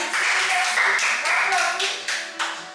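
A small group at the end of a fat-burning circuit-training workout claps briefly, giving a few close, distinct hand claps that thin out and trail off within about three seconds.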